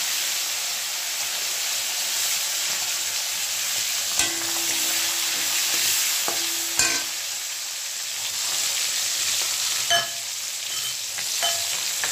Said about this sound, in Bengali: মাছটা ভাজার জন্য দেব